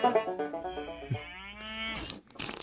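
A single cow lets out a loud, drawn-out moo that bends upward in pitch and then tails off, heard alone and up close with no speech.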